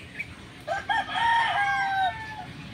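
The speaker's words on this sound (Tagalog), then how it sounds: "Meron tayo ditong cockerel." A brown red cockerel gives one full crow, rising and then drawn out, loud and close, after a couple of short preliminary notes, with faint background noise and no talk.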